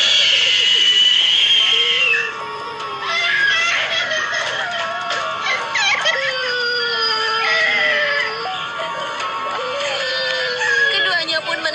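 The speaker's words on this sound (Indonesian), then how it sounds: "Ia menjerit histeris serta menangis." A young girl screams hysterically and cries, long wavering high-pitched wails that rise and fall repeatedly, loud and close, with a brief break after the first outburst.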